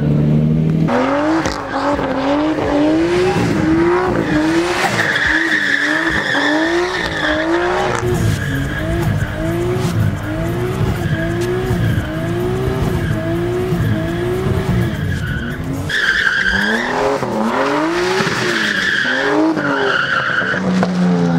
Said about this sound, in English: But yeah, this is a drift car.